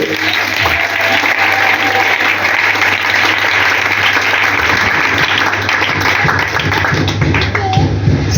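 A church congregation applauds and cheers in praise of God, a dense, steady wash of clapping that fills the whole stretch loudly, with voices mixed in.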